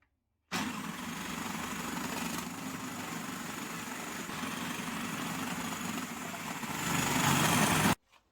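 An electric kitchen grater shredding carrot runs with a steady, loud motor whine and grinding rasp for about seven seconds, swelling near the end before cutting off abruptly.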